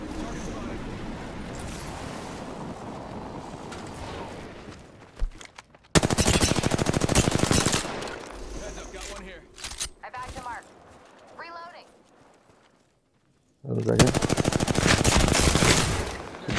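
Apex Legends gunfire crackles in rapid automatic bursts. A long sustained volley is followed by shorter sharp shots, and another loud burst comes after a brief quiet gap, with voices in the background.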